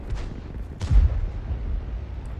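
A single heavy cannon blast from the SU-14-1 self-propelled gun in World of Tanks, a booming low thump about a second in with a rumbling tail, over a steady low battle drone.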